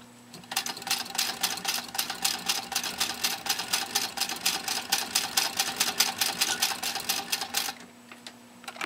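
A hand-cranked 1921 Singer 66-1 sewing machine stitches through eight layers of heavy canvas binding tape: a steady, rapid run of sharp mechanical clacks for about seven seconds, close and clear, then stops.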